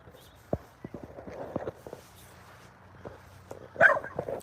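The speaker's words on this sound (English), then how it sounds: "It's just a dog. It's just another dog." A dog barks a few times nearby amid scattered clicks and footsteps, ending with a louder, sharper bark, and a voice can be heard faintly in the background.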